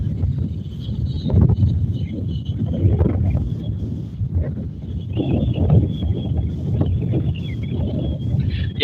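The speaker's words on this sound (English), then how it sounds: "Very gusty winds still moving through." Steady, roaring wind from a tropical storm buffets the microphone outdoors, rising and falling in gusts throughout with no pauses.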